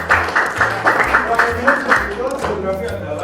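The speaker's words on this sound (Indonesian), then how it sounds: "Ya, betul, tepuk tangan." Classroom applause from students at a typography lesson in a Jakarta high school, rhythmic group clapping in short bursts that carries on under a teacher's speech.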